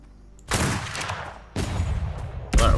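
Three loud bursts of gunfire from the video game Atlas in a wild pirate encampment fight, each sharp onset followed by a rumbling decay, about a second apart with the last one closest and strongest.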